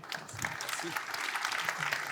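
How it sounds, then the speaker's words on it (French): Applause from a cybersecurity conference audience follows a technical presentation, a moderate wash of clapping with low voices murmuring beneath it. "On peut d'abord vous applaudir."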